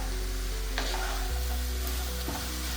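Beans stirred in a hot pan with a steady sizzle and scraping of the spoon against the metal, continuous and close, with no talking.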